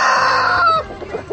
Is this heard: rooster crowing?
yes